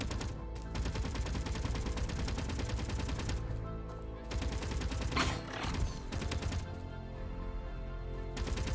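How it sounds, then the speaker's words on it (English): Space Engineers auto turrets firing in long rapid bursts, a dense mechanical rattle of shots repeating with brief pauses between volleys, loud and steady throughout with no talk. "those auto turrets are pretty cool"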